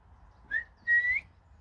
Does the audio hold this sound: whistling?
yes